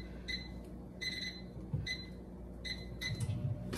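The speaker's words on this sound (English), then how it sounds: "pardon the noise," A microwave defrosting chicken franks gives off a steady low hum, interrupted by four evenly spaced bursts of high electronic beeping, fairly quiet and with no talking.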